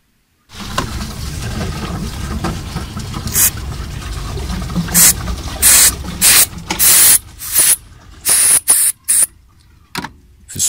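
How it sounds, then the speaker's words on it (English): Carburetor cleaner sprays from an aerosol can onto a rag, first as a long steady hiss and then as a quick series of short, sharp bursts separated by silence, all close to the microphone. "If you spray a bit on it on a rag, then wipe the throttle body"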